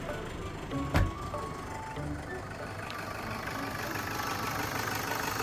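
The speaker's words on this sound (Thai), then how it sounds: "เดี๋ยวลองสตาร์ทเครื่องยนต์ฟังเสียงกันดูเลยนะครับ" A 2003 Toyota Sport Cruiser 4x4 with a 2.5 D4D diesel engine fires up with a short burst near the start. It then settles into a steady, even idle that stays at a constant moderate level.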